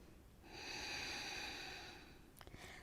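A single long, airy exhale lasting about two seconds, close and soft during a yoga core hold, followed by a few quick breathy puffs.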